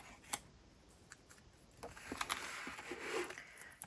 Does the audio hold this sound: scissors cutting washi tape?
yes